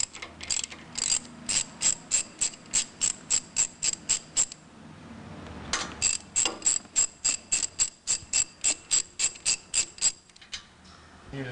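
A ratchet wrench loosens a 9/16 retaining bolt on a front bearing, making two long runs of quick, sharp, evenly spaced clicks with a short pause between them, close and clear.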